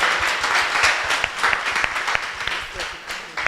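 Audience clapping at a town hall meeting on community safety, a dense, steady patter of many hands filling the room, with some voices mixed in underneath.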